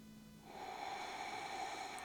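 A single slow, deep breath drawn and released through the nose during a standing hatha yoga pose, close and fairly quiet in a still room.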